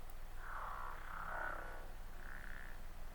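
Long, drawn-out synthesizer notes swell and hold in a low, murky register, a few slow sustained tones over a dull background hum.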